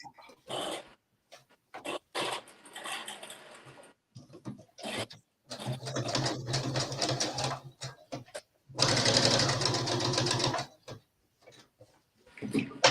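Topstitching on a skirt pocket is done in several short sewing-machine bursts broken by pauses, each run a close, rapid mechanical whir, with a person talking in between.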